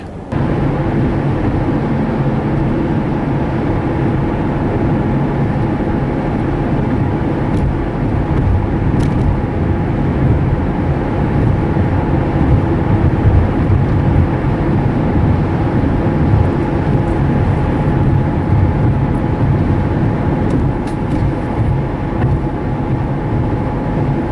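A car drives steadily along a road in traffic, with a constant broadband rumble of engine and tyre noise heard from inside the vehicle and no speech.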